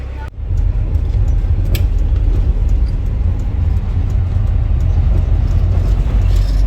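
Old bus being converted, driving along a country road, a loud steady low engine rumble and road noise heard from inside, continuous throughout, with a few faint rattles.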